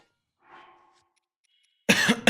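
A single short, soft cough, followed a moment later by a person beginning to speak up close.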